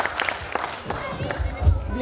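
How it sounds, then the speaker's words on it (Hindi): A crowd at a school annual function claps briefly for a girl who has just drawn a lottery ticket. The applause is light and fairly distant, with voices talking over it. "तालियां बजाएं बालिका के लिए एक बार"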